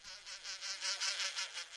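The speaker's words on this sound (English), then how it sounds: "There are wasps." Paper wasps buzzing close by, a steady high insect drone that pulses in and out several times as the wasps move, with no other sounds.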